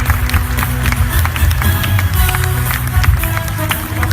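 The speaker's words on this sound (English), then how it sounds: "Give him a round of applause." Crowd applause and cheering for a Singapore Double Diamond speaker at a live talk, steady dense clapping filling the hall with some crowd noise.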